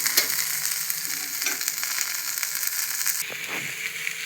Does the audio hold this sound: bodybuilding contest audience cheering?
no